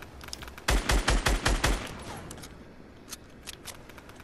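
A shotgun fires in a shooter video game, set up for a double-pump technique: a quick burst of five or six loud, sharp blasts in close succession, followed by quieter game ambience.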